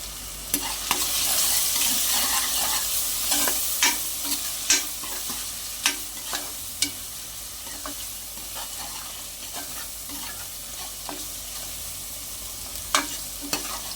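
Onions frying with turmeric in a pan, a steady sizzle with sharp spatula scrapes and clacks against the pan at irregular intervals throughout, close and fairly loud.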